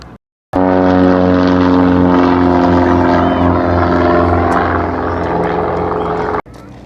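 Float plane propeller engine in Fairbanks, Alaska, roaring loud and close with a strong steady drone of harmonic tones, starting abruptly after a brief silence and cutting off near the end.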